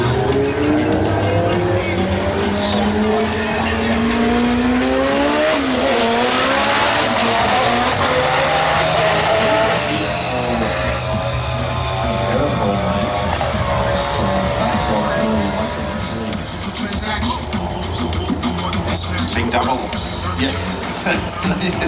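Cars race at a roll racing event at the Sydney Euro Motor Festival. Engines roar and rev continuously, with changing pitch and tire noise for over twenty seconds, while a commentator talks throughout.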